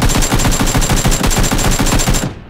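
Rapid automatic gunfire in PUBG hammers out in a fast, even stream of loud shots, close and dominant, before cutting off abruptly at the end.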